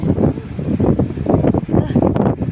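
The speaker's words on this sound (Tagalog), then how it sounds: "Kusog-kusog ang hangin." Strong gale-force blizzard wind roars steadily and loudly close to the microphone in Maine, buffeting in gusts with a broad, rumbling wash of noise throughout and no voices.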